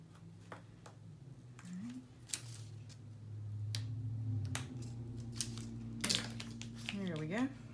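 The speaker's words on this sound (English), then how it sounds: "I've got some overlap here, so I'm going to trim that off." Scissors trim overlapping paper in a few quiet snips, spread across a low indoor hum with faint speech and small handling noises.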